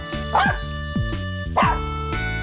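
A cartoon puppy in a children's story gives three short, bright yips spaced evenly apart, close and clear over a steady bed of soft background music.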